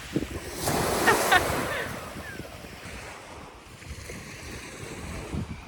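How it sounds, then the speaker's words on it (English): Ocean surf breaking on a shore, a steady wash of waves with wind noise across the microphone, strongest in the first couple of seconds and then a softer continuous roar. "He's catching the waves."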